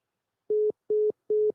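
A telephone busy signal plays while calling back: three evenly spaced, loud, clean beeps of equal length with short silences between them.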